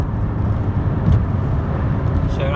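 A 1986 Vauxhall Cavalier GLSi (Opel Ascona C) pulls out to overtake, its engine droning steadily from inside the cabin with a low road rumble and a slight rise in effort midway.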